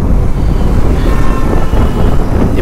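A group of motorcycles pulling away on a road during a morning Sunday ride, a loud continuous low engine rumble with wind buffeting the microphone and no talk.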